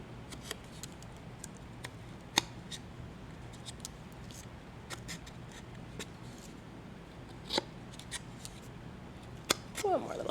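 Scissors snip through thin decorative napkin paper in a crafting session, a run of crisp, sparse cuts spaced irregularly at close range, over a quiet room background.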